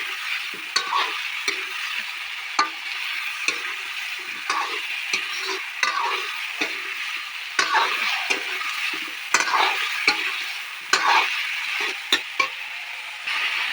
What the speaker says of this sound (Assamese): এয়া চাওক, মই মাংসখিনি দি দিওঁ এতিয়া। ভালদৰে লৰাই দিওঁ।